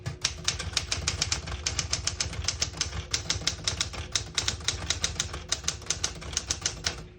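Rapid clacking of a 1971 Smith-Corona Super Sterling portable typewriter, keys striking in quick uneven bursts with brief pauses, close and clear, no voices.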